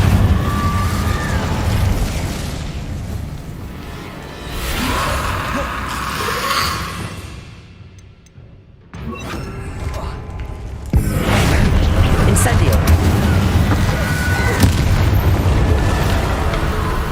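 Incendio and Confringo spell blasts in the Hogwarts Legacy video game, loud booming fiery explosions and rumbling bursts over game sound, with a brief quieter gap before heavy blasts resume; a voice is heard at times.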